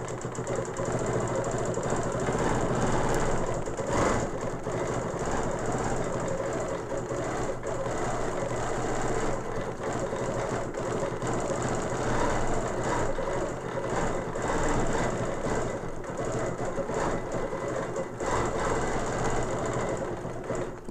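A sewing machine runs steadily with its needle stitching a straight quilt line, a loud continuous mechanical whir and rapid needle rattle that holds for about twenty seconds without a pause or voices.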